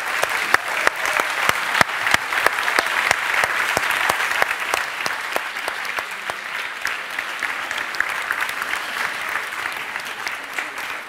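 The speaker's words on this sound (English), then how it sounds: "Round of applause for these projects as well." Audience applause for highly commended science teaching projects at the Science on Stage 2024 awards ceremony, steady dense clapping filling the hall throughout and slowly tapering toward the end.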